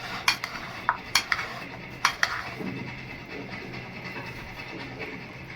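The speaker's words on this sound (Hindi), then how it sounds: "अब सारी चीज़ों को हमने मिक्स कर लेना है।" Spoon clinks and scrapes against a bowl while chana chaat ingredients with crushed red chilli are stirred together, a few sharp taps early on, then a softer, continuous mixing.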